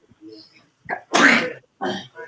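A single sharp sneeze with a breathy build-up, followed by brief voices talking.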